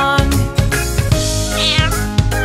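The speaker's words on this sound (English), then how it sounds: "The cat on the farm goes meow, meow, meow." Cat meows sung within a children's farm nursery rhyme, several melodic meows over steady bouncy backing music with rhythmic beats.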